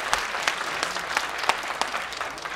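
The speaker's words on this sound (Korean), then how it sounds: "큰 박수를 함께 하시겠습니다." Audience applause at the opening of a political debate forum in a hall, a steady wash of clapping from a sizable crowd with a few sharper individual claps standing out, moderately loud and continuous throughout.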